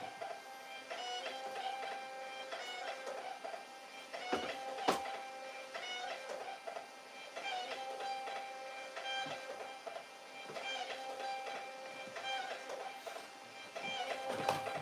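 Printer running while printing shipping labels at night, a steady mechanical whir with repeating rhythmic feed cycles and a few sharp clicks and thumps, fairly quiet and without speech.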